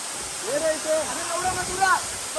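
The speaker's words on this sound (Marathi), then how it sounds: "मस्त धबधबा पडतो दोन्ही साईडून" Steady rushing water from a waterfall fills the background while people talk and call out over it.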